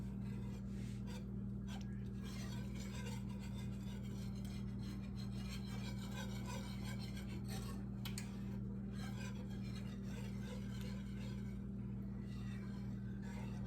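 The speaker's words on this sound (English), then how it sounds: "I'm going to go ahead and add 3 cups of Parmesan cheese and whisk that in too" A whisk rasps steadily against a pan as Parmesan cheese is worked into a simmering Alfredo sauce, a continuous close scraping over a constant low hum.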